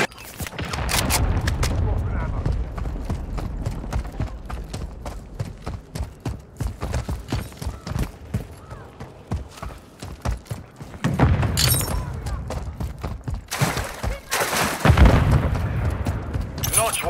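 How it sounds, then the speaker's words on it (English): Cruise missile strikes in Call of Duty Modern Warfare III: heavy booming blasts and crackling debris land in loud bursts, with dense gunfire-like clatter between them and a final cluster of big explosions near the end. "Friendly cruise missile deployed."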